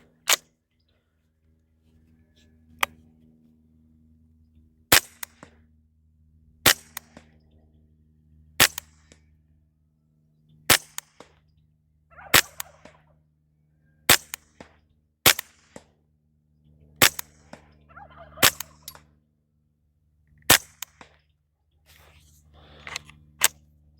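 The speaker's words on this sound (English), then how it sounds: "this is the Canco Trapper again. I'm going to be shooting 10 consecutive rounds." Ten sharp, suppressed .22 rimfire reports fired one after another through a Canco Trapper suppressor, spaced roughly two seconds apart, each a crisp crack with a short tail over a steady low background hum.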